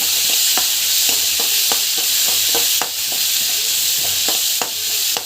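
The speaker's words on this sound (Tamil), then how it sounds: "நல்லா வதக்கிக்கோங்க" Onions with turmeric powder sautéing in a pan, a loud steady sizzle with rhythmic spatula scrapes and taps roughly twice a second, close by.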